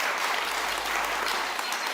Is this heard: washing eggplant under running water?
no